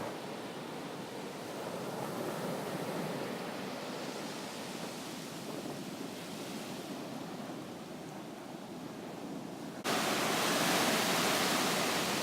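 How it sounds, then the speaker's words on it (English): Ocean waves wash onto a beach, a soft continuous surf hiss that swells slightly and grows louder near the end, heard alone without voices or music. "There's no music here, so you can hear the waves."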